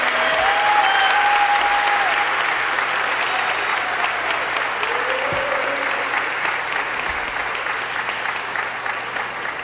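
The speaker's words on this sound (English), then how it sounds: "Give her a round of applause" Crowd in a university gym at a men's basketball game applauding steadily for nearly ten seconds, a broad sustained wash of clapping with faint tones and murmur underneath.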